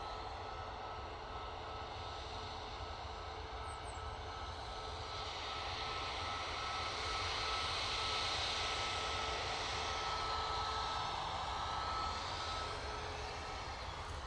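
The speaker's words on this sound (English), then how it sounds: "this is the TUI Boeing 737 MAX 8 going off to Naples" A TUI Boeing 737 MAX 8 jet departs for Naples, its engines holding a steady, broadband roar that swells gradually toward the middle and stays loud and continuous with no voices over it.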